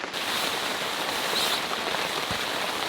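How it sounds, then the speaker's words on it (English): Heavy rain hammers steadily on a camping tarp and awning over an elevated tent on a freezing mountain, a dense, close, continuous patter with no talking. "listen to the rain on the tarp, on the awning"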